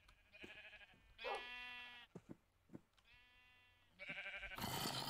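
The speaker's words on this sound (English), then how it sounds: "I have two sheep." Sheep bleating in a video game: several wavering, nasal bleats in sequence, fairly close and clear, with short clicky game sounds between them and no talking.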